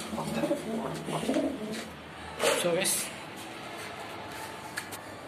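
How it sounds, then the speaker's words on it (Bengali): Rooftop pigeons coo in soft low bursts while a person talks nearby, with a brief louder rustle midway. "এটা ফিমেল কবুতর, তো এটা মেল, সেজন্য রাখছি"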